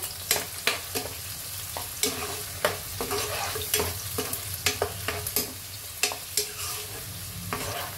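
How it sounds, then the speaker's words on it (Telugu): Three cut onions fry in oil in a pan with a constant soft sizzle, punctuated by a regular series of sharp scraping stirs of a spatula, close and moderately quiet with no speech. "ఇప్పుడు ఒక 3 ఉల్లిపాయలు కట్ చేశాను కదా, వేసేసుకుంటున్నాను. ఇవి బాగా గోల్డెన్ కలర్ వచ్చేంత వరకు అయితే ఫ్రై చేసేయండి."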